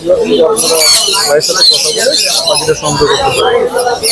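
Loud, harsh yellow-crowned amazon parrot squawks and screeches close by, repeated in bursts over background chatter from people nearby.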